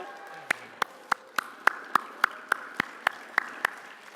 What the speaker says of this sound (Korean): 성모 성신께 뜨거운 감사의 박수